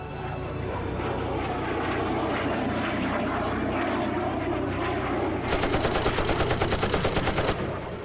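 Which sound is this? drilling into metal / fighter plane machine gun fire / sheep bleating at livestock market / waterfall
fighter plane machine gun fire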